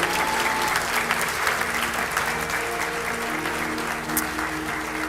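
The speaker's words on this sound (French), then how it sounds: "Est-ce qu'on peut acclamer la venue du Sauveur ce matin" A church congregation applauds with steady, dense clapping and a few cheers throughout. A voice and held tones sit underneath it.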